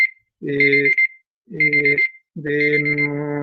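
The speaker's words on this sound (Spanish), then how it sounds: "perdón, sonó la alarma" An alarm beeps in a room in three loud, repeated electronic bursts with short gaps, clear and alone.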